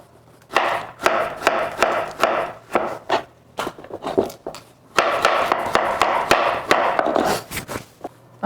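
A carrot is sliced with a zigzag cutter on a cutting board, about a dozen crisp, close chopping knocks in uneven bursts with short pauses between.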